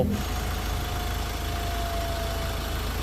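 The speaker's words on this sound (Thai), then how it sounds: "เราสตาร์ทเครื่องยนต์ติดขึ้นมาแล้วนะครับผม" A rebuilt Ford Ranger T6 engine, fresh from new pistons and rings, idles steadily after starting, a low even rumble with a faint whine, close by and unbroken by talk.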